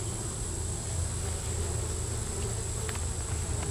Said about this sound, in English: There's bees all in the bottom.